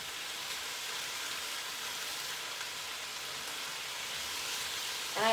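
Steady, even sizzling of chicken frying in a hot pan, a soft continuous crackle with a brief louder clatter at the very end.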